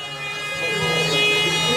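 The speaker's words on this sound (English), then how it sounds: "You can hear the disc revving up" An antweight combat robot's spinning disc motor whines steadily and climbs in pitch as it revs up, loud and close, with a tonal hum beneath and no talking.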